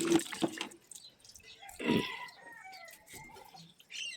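Morning tap water runs and splashes into a basin in a quiet, fairly soft stream, with irregular bursts and drips and no talking.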